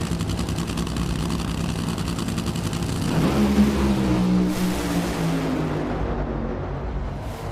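Two NHRA pro drag racers, a Toyota and a Chevrolet, roar loudly in a sustained blast of engine noise, swelling midway as the cars launch and thunder down the strip, then fading away.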